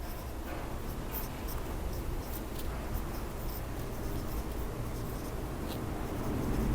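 A pen scratches steadily across a board during a lecture on parts of speech, a continuous close rasp under a dense background hiss, with no voices.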